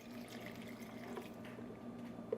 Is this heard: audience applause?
no